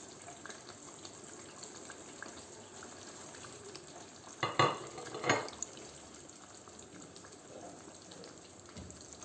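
Fried fish bones are added to a simmering curry masala in a pan. A soft, steady sizzle runs throughout, with a couple of brief louder clatters of stirring and scraping near the middle.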